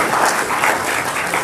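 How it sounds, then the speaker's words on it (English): Audience applause at an annual church conference, a dense, steady wash of clapping that fills the whole short moment at close range, with no voices. "can you guys give them a round of applause for all they've done?"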